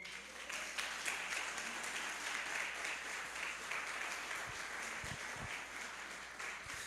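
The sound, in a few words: applause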